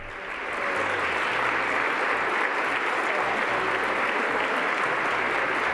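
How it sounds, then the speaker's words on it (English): Steady, sustained applause fills the U.S. House chamber during the vote for Speaker, many hands clapping at once in a dense wash that swells in quickly and holds at an even level throughout. "they are clapping for Patola"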